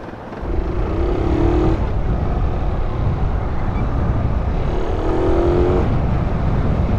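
A carbureted Suzuki Raider 150 motorcycle engine runs steadily up close, a continuous low rumble and mechanical drone that holds an even, loud level throughout with slight swells.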